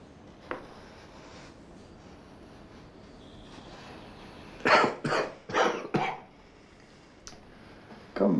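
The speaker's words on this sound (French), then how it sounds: "Comment arrêter cette toux?" Persistent coughing: a faint single cough early on, then a burst of four or five harsh coughs in quick succession midway, and another starting at the very end, against an otherwise quiet background.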